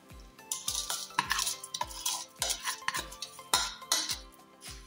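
Puffed rice hits a hot wok for roasting with crisp rustling bursts and light metallic scrapes in a steady rhythm about twice a second, close and fairly quiet, with no talk.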